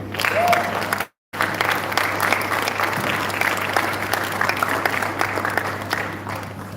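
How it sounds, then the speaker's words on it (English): Audience applause at a Bare Knuckles event, dense and steady clapping filling the room for the whole stretch, with a brief dropout early on and a low constant hum beneath. "you guys clap for him again"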